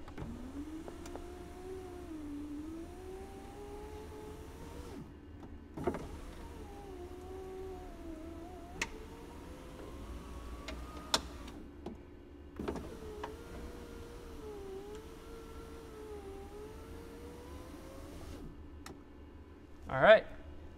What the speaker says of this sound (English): Let's go ahead and try to get the window back up all the way.